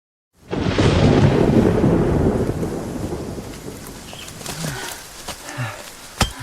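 A loud thunderclap rolls and rumbles out over falling rain in a mountain setting, fading to steady rainfall with scattered nearby knocks and drips.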